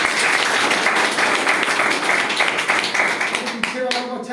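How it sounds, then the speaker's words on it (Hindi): Loud, energetic audience clapping at a marketing plan presentation, filling the room before thinning and breaking off near the end. "एक बार जोरदार तालियां हो जाए अपने लिए।"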